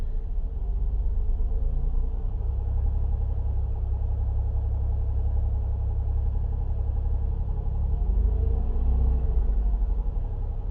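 A 2005 Chrysler Town and Country's 3.8-liter engine runs with a steady, heavy low rumble, the reported knock buried in a continuous drone that swells slightly near the end.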